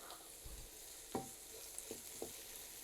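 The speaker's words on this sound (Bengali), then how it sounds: "আদা রসুনের পেস্ট আর পেঁয়াজটাকে অল্প একটু ভেজে নিলাম।" Onion and ginger-garlic paste fry quietly in a pan, a faint low sizzle broken by a few soft stirring scrapes and taps, with no talk.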